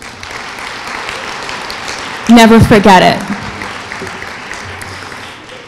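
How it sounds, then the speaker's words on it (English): Graduating students in a lecture hall applaud with a broad, steady wash of clapping while a speaker's voice briefly rises over it at the microphone, then the applause continues more quietly. "Give yourselves a round of applause."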